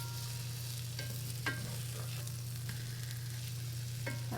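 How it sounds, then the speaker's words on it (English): Pumpkin pie spice French toast on sourdough frying over medium-high heat in a cast iron pan, a steady faint sizzle with a low hum underneath and a few light scrapes, no talk. "So we're going to let them cook and we'll flip them when they're golden brown underneath."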